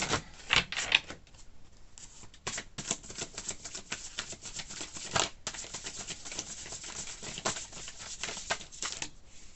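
Rapid riffling and snapping of tarot cards being shuffled, a dense burst of crisp papery clicks that repeats in quick runs, close up with no talking.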